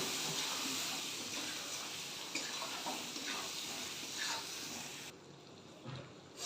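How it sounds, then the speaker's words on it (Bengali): Potatoes frying in a spiced paste in a pan give off a steady close hiss with scattered stirring scrapes, the sizzle cutting out sharply near the end. "এই মশলার সাথে আলুটাকে আমি ভালো করে নেড়ে চেড়ে ভেজে নেব"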